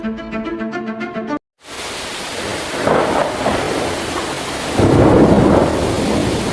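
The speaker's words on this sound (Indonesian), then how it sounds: "Seketika langit berubah gelap, petir menyambar, tanah bergetar." Rolling thunder and steady rain in a dramatized storm effect for a narrated legend, a rumbling downpour that swells louder after a brief break, with heavy crashes near the middle and end.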